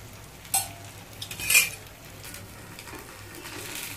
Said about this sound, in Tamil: சுற்றியும் கொஞ்சம் எண்ணெய் ஊற்றிக்கலாம்